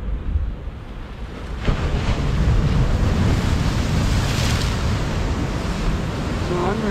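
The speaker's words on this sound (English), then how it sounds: "Right now, I'm just watching the waves." Ocean waves roll in and break against the shore, a steady broadband wash with wind buffeting the microphone, building to a louder surge after the first couple of seconds and holding loud to the end.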